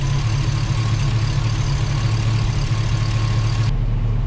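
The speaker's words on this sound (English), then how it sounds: "Need to rev it back up. I don't want to let it idle too long." A Chevrolet Tahoe engine idles steadily during break-in, a loud continuous low rumble with no clear rev rise, ending with a slight drop in the upper hiss.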